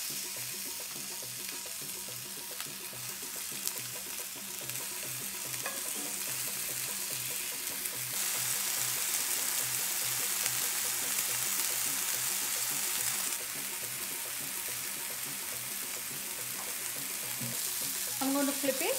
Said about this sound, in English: Skillet is hot, I'm going to add the bacon.